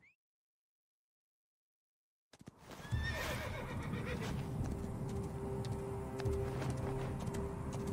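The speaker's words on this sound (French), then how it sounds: "Mon cheval." A horse in the video game Assassin's Creed Origins neighs loudly after a stretch of silence, followed by a steady rhythm of hooves clopping over a continuous background.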